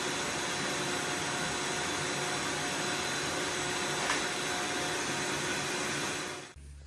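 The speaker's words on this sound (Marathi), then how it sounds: "तो आत्ता पहिल्यांदा व्हॅक्यूम करून घेतोय" A vacuum cleaner works over stair carpet and the edges of wall boards during house painting and renovation, giving a steady, loud broadband whoosh that runs nearly the whole time and cuts off abruptly at the end.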